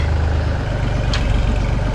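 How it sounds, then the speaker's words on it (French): A tractor engine runs at a steady low idle close by on an island, a constant heavy rumble with no change in pace and no one speaking. "On y va en tracteur."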